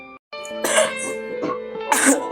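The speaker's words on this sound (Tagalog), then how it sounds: "mukhang nahawa na yata ako sa ubo mo" A person coughs several times in harsh, uneven bursts near the microphone, the sounds clustered over a couple of seconds with brief gaps.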